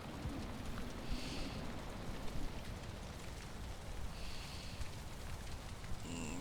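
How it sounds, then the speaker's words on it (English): Steady rain falls in the video game Valheim as a continuous, even hiss of drops that holds at a moderate level throughout, with no talking. "I really prefer being at home when it's raining."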